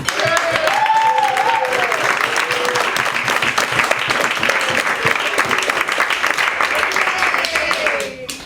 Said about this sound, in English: about a round of applause for Linda,